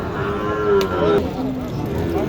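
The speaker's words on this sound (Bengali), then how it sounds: "তিনটা গরু আছে" Cattle low at a Qurbani cattle market in Naogaon, with one long, drawn-out moo rising and falling up close over a steady crowd murmur.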